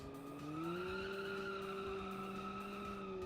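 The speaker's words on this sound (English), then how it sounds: "And the tire screeches loud." A steady, loud tyre squeal from a hot hatch car in a racing game, its pitch rising slightly and then holding over a low engine drone, with no talking.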